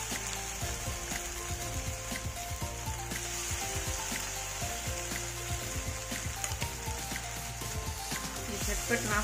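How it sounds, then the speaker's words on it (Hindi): Sooji uttapam batter fries in a spoonful of oil in a pan, giving a steady crackling sizzle with scattered clicks and scrapes nearby. "देखिए हम इसी से एक चम्मच ऑयल डालेंगे। अब हम इसी से उत्पम बना लेंगे।"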